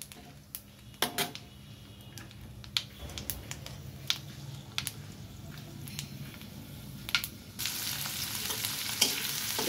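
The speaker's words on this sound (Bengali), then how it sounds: "রসুন সব কিছু ভেজে নিচ্ছি। খুব ভালো করে ভাজতে হবে তো রান্নাটা সরিষার তেলে।" Onion, green chilli, ginger and garlic fry in mustard oil, a continuous crackling sizzle broken by sharp stirring clacks of a spatula, with the frying swelling louder near the end.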